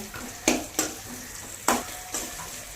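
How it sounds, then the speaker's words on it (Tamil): Onion sautéing in a pan for broccoli fry, a soft steady sizzle punctuated by four sharp stirring clinks of a spoon against the pan, fairly quiet with no talking. "வெங்காயம் நல்லா ரெண்டு செகண்டுக்கு நல்லா வதக்கிக்கலாங்க"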